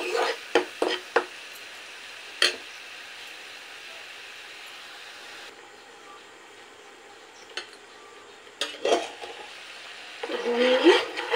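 Poppy seed paste is stirred with paneer in a pan for Bengali paneer posto, with a few light clinks of a utensil against the pan, long quiet gaps, and a soft scraping, sizzling rub near the end.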